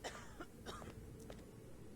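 A character in the video game Hitman: Blood Money coughs several times in quick, rough bursts, close and clear over a low background hum of game ambience.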